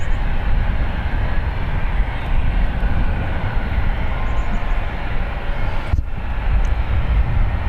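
A heavy jet lands at San Francisco International Airport, a constant loud engine roar with deep rumble that holds steady, briefly dipping near the end.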